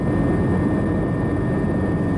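A helicopter flying low over the damaged Fukushima nuclear power plant in Japan, its rotor and engine producing a steady, loud, continuous drone throughout with no voices.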